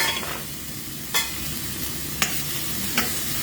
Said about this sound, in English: Stir fry it a bit,